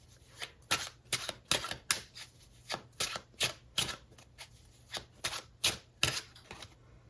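Tarot cards being shuffled and pulled from the deck, a series of crisp riffling bursts in an uneven rhythm, close and clear with no talking over them.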